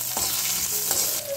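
Finely cut onion, curry leaves and ginger fry and sizzle in a pan for a Kerala kadala curry, a steady close hiss with brief stirring scrapes and no voices.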